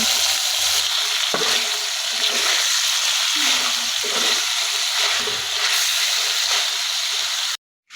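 Chicken pieces fry lightly in hot oil with a loud, close, steady sizzle and occasional stirring scrapes, cutting off abruptly into silence just before the end.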